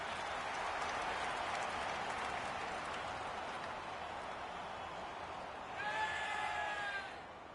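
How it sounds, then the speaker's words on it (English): Stadium crowd noise in the AFL 26 football video game on PS5, a broad steady roar of the crowd at moderate volume that lifts briefly near the end before fading. "The crowd noise tells you all you need to know."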